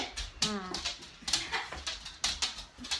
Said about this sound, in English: This is my grand puppy, Coda.